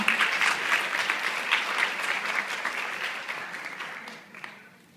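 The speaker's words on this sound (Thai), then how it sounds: "Please give a big round of applause for her." Audience applause at the opening ceremony of a breast cancer event, a dense steady patter of many hands that holds for several seconds and then fades away toward the end.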